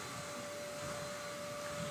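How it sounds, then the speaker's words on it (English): Steady vacuum cleaner drone running continuously, muffled and fairly distant, with a constant hum and no voices. "They're right outside my door vacuuming that floor."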